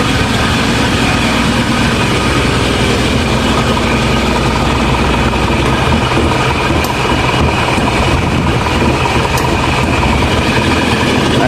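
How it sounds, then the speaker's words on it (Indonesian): A steady Isuzu Panther diesel engine idles while warming up, a loud, continuous low rumble with a constant hum that holds evenly throughout with no voices. "sekalian nunggu mesinnya panas"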